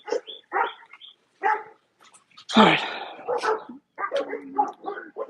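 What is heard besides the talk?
dogs barking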